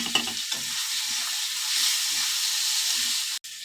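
Spices, turmeric and tomato paste fry with potatoes in a pan for dimer jhol, giving a continuous bright sizzle and hiss punctuated by soft stirring scrapes.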